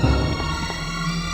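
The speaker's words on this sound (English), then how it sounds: "that sound is the sound of zombies eating" Zombies eating in the video game Resident Evil: low, wet, continuous gnawing and squelching under a droning ambient game background, moderately loud with no talking.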